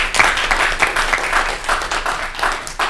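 An audience applauds Senator Bernie Sanders at a meeting with education justice networks, giving steady, dense clapping that stays moderately loud and close without pause for the whole stretch.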